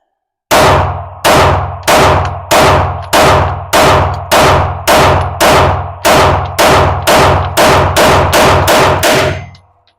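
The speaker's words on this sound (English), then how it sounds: "All right, 17 rounds going down range." A Beretta APX pistol empties a 17-round magazine in a long string of loud, evenly spaced gunshots. Each sharp crack rings out briefly before the next, with no talk.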